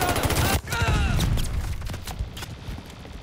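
Rapid automatic gunfire in a Call of Duty: Vanguard team deathmatch on the Hotel Royal map, a dense continuous rattle that briefly cuts out and resumes, mixed with other game noise and talk.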